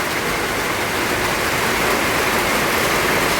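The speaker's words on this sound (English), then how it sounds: "I couldn't go anywhere with this rain" Heavy rain pours steadily over a flooded area, a dense, loud, unbroken hiss of drops hitting surfaces, close and constant with no voices.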